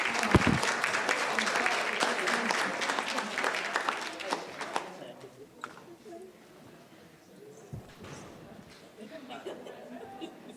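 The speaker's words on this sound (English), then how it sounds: "a big round of applause" An audience at a scholarship recipients' gathering applauds loudly for several seconds, the clapping then fading into scattered claps, murmuring and light chatter.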